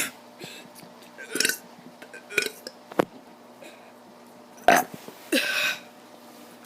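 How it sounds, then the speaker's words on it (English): A child burps several times, loud close belches spaced apart with quieter gaps between them, mixed with some talking. "This burp don't sound that good,"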